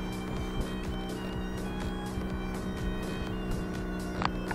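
A sailboat's motor runs steadily at half speed, a continuous low hum with a faint whine laid over it, the engine heard fairly close and unbroken.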